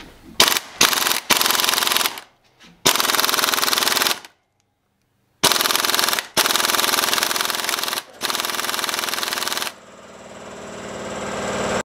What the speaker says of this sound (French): coup de clé à choc, je pense que ça va se desserrer